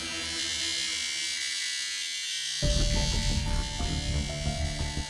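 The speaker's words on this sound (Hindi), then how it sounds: "ये आपका एसी इतना आवाज करता है?" A noisy office air conditioner hums steadily, then swells into a louder, harsher electric buzz partway through, holding a droning tone with a rough rattling edge to the end.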